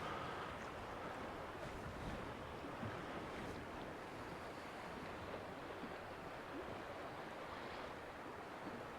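Steady sea wind blows from the side along the South Devon coast at Start Point, a constant close rush and buffet mixed with the wash of surf, with no voices.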